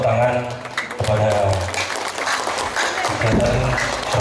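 Applause from a crowd at a mosque inauguration in a Central Java village, sustained clapping running the whole stretch at close range, with talk over it.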